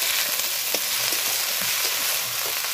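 Beans and eggplant, freshly washed, sizzle and fry steadily in hot oil with crushed garlic and chopped onion, a dense continuous crackle with faint stirring clinks.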